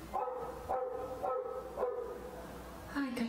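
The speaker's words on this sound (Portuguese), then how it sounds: "o barulho que me incomodava na hora da gravação era o cachorro da rua latindo" A street dog barks repeatedly nearby, five evenly spaced sharp barks with a last higher yelp, heard clearly over low room noise.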